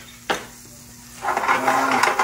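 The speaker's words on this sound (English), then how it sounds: "butter is starting to bubble and melt." Almost half a stick of butter sizzles and bubbles in a heated skillet, a soft hiss that swells after a brief clink of the pan, close and steady, with no talking.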